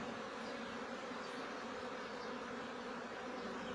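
Dense, steady buzzing of many honeybees on a hive frame close by, a continuous droning hum with no pauses or voices.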